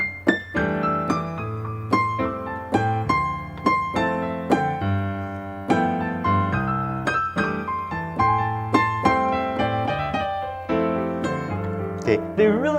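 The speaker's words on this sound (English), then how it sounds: "Here's the sound of triplets." Piano playing triplet figures, notes struck in quick groups of three over sustained bass tones, close and clear, moderately loud throughout with no voices.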